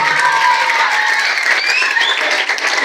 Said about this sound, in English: Let's clap for the Trinity dance group today